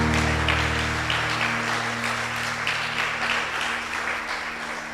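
A church congregation claps together in a steady, dense wash of applause that carries throughout and slowly fades, with sustained musical tones beneath it.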